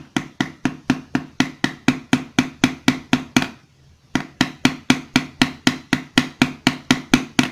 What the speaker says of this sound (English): I'm trying to keep the metal level so that I'm not hammering on any edges of the metal pieces.